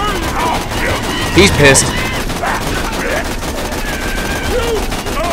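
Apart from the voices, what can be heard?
gunfire in video game Borderlands 2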